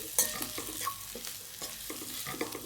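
Green chili and chopped coriander stirring and frying in oil on fried onion, a soft continuous sizzle with scraping spatula strokes, quiet and close.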